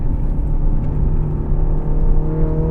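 The exhaust of a Mini Clubman JCW with four-wheel drive drones steadily from inside the moving car, a loud, constant low rumble with a slight rise in engine pitch and no voices.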